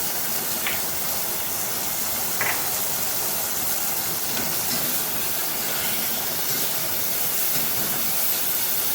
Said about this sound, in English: Now I'm going to add some bacon.